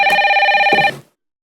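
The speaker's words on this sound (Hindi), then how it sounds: "अग्रवाल साहब का फोन आया" A telephone bell rings loudly in a steady, rapid trill for about a second, then cuts off abruptly, leaving silence.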